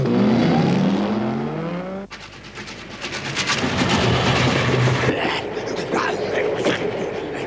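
A cartoon car engine sputters and whines up, then gives way to a rushing, rattling drive-off noise in an animated Le Roi Léo episode, with voices speaking over parts of it.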